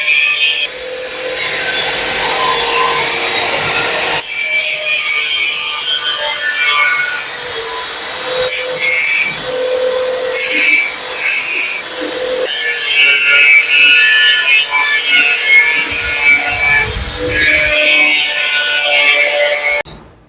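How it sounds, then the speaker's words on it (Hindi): Hand-chasing design details into a cast brass Durga idol in a workshop, a continuous dense scraping and rasping of a tool on metal, loud and close, with brief pauses. "यहाँ पे भाई साहब चिताई कर रहे हैं, डिजाइन डाल रहे हैं"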